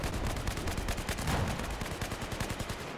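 Sustained rapid-fire gunfire from Battlefield 4, a steady stream of shots at moderate distance, fairly even in rhythm and level throughout, with no voices over it.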